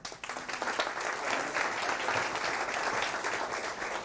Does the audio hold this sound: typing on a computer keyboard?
no